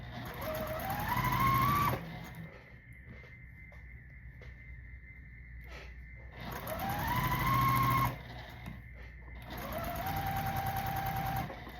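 A sewing machine stitches a quilt block in three bursts, each revving up to a steady whir and then stopping, with quieter pauses of fabric handling between them.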